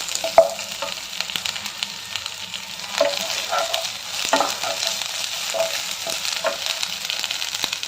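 Ginger garlic paste and curry leaves sizzle steadily in a hot oiled pan, a continuous crackling hiss broken by occasional sharp pops and stirring scrapes, with no talk over it.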